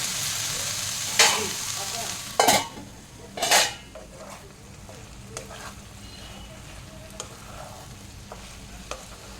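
Cabbage sautéed in a pan with turmeric, three loud utensil scrapes and clanks against the pan over a soft sizzle, then a few lighter taps.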